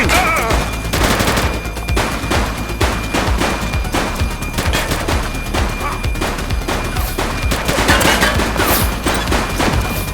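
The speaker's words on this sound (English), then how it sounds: "He's shooting!" Sustained volleys of gunfire rattle through a police shootout in the video game The Precinct, dense overlapping bursts and single shots keeping up loud and steady for the whole stretch with no break.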